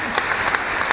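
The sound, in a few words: audience applause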